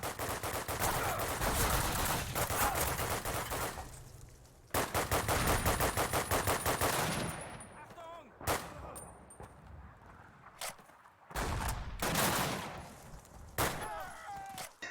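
An MP44 rifle in a Call of Duty game fires in short and long bursts, loud rapid automatic cracks with brief pauses and metallic clinks between strings of shots, close and dominant.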